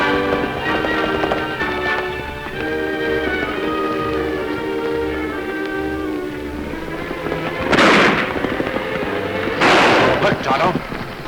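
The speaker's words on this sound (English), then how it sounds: "Me hear 2 or 3 horses running fast." Hoofbeats of two or three horses galloping fast in an old western radio drama, a rhythmic clip-clop under music, with a couple of sharp bursts standing out.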